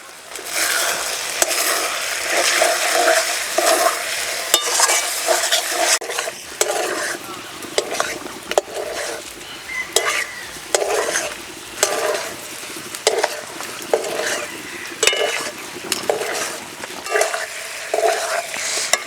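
Papaya pieces with turmeric and Kashmiri chilli powder sautéing in oil, a steady bright sizzle with repeated scraping stirs of a spatula in the pan, close and continuous without talk.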